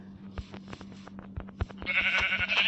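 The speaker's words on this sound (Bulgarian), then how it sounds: "Там има още две овце." A Minecraft sheep bleats in the game amid soft footstep clicks and game noises, the bleat rising clearly near the end.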